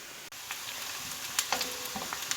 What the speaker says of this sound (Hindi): प्याज को हम सॉफ्ट होने तक फ्राई करेंगे।